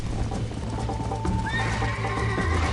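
A horse whinnies loudly in Red Dead Redemption over a steady rumble of hooves and game background noise, the neigh rising partway through and trailing off.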